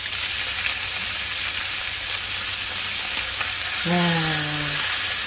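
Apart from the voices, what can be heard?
duck steak searing in a pan, fat rendering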